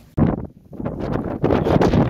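Strong desert sandstorm wind in Kuwait roars and buffets close to the microphone, gusting in surges as sand is blown across the ground, with no voices.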